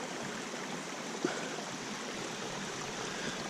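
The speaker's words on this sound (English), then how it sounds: "Quick video of Summit City Creek." Summit City Creek in Alpine County, California, formerly Deer Creek, flows steadily in a continuous rushing wash of water, with one brief faint knock partway through.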